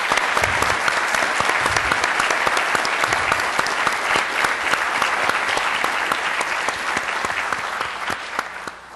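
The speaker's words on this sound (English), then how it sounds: "I'd like to ask that we all do one more round of applause for all our honorees" A large audience gives sustained, dense applause for honorees at a formal awards ceremony, steady and loud throughout before tapering slightly at the end.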